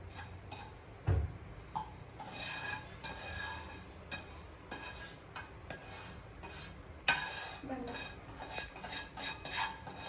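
A spoon scrapes and clinks against metal as golden roasted semolina for besan laddoos is moved into a vessel, with scattered irregular taps and one louder knock, fairly close and without talk.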